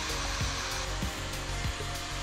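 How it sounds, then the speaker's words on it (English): A brass wire wheel spun by a drill scours rust and oxidisation off old bike parts from a 1992 Raleigh Pioneer, a steady close whirring hiss with repeated brief low thumps as the wheel bites the metal. "A brass wire wheel attached to your drill or rotary multi-tool really helps to break down all the rust and stubborn oxidisation around the metal parts"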